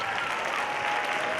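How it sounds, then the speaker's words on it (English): Audience applause for a high school concert band at a winter concert, a full, steady wash of many hands clapping in a hall for a brief moment. "if we get one more round of applause for the amazing concert band"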